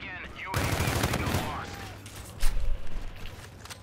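Video game gunfire in Call of Duty: Infinite Warfare, a loud burst of rapid shots with a heavier thump later, mixed with people talking.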